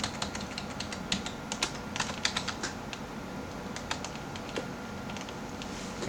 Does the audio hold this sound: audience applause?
no